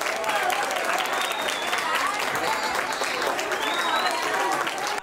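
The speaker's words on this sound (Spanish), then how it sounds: "Este domingo fueron recibidos con gritos y aplausos por la fanaticada panameña" A crowd of Panamanian fans at a mall autograph signing in Albrook Mall, Panama, greeting telenovela actors with steady, dense applause, scattered shouts and whistles, loud and continuous throughout.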